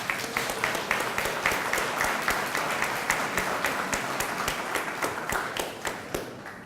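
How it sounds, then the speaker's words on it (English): Audience applause at a small business celebration, dense steady clapping from many hands throughout with sharp individual claps standing out, fading slightly toward the end. "Let's give them all a big round of applause."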